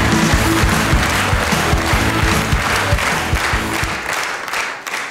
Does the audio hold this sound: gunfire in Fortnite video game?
no